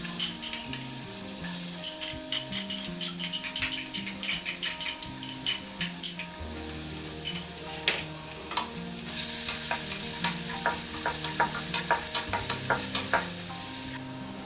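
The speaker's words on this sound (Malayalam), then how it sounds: "ഇതിലേക്ക് ചെറുതായിട്ട് അരിഞ്ഞെടുത്ത വെളുത്തുള്ളി ചേർത്ത് കൊടുക്കുക" Finely chopped garlic sizzles and fries in a pan for chicken fried rice, with steady loud frying and frequent stirring scrapes of a utensil against the pan throughout, and no talking.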